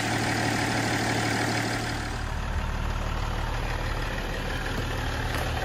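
A BMW E39 530d diesel engine runs steadily nearby, its low, even rumble continuing throughout without a break.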